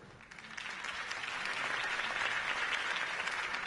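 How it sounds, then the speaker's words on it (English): Steady, dense crowd applause in the Batman Telltale video game, a broad wash of clapping that swells slightly and holds at a constant loud level, with no voices over it. "If only Mr. Wayne, my campaign's largest backer, could have heard that applause"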